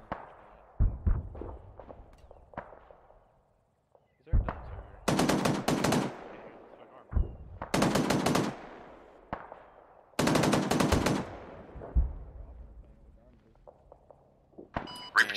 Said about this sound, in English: Switching the guns, finish off what I can see.